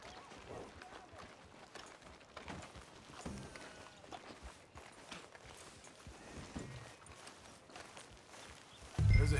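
Horse hooves clip-clopping at a walk in the Red Dead Redemption 2 video game, a steady run of soft thuds under game ambience and music, with a louder burst at the very end.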